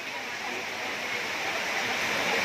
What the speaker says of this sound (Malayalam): മഴ ഭയങ്കര തിമിർത്ത് പെയ്യുകയാണ്.